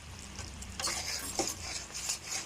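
Spatula scrapes and stirs through a vegetarian pointed gourd (potol) curry frying in a pan after sugar goes in, giving soft scraping bursts over a faint sizzle, fairly quiet and close.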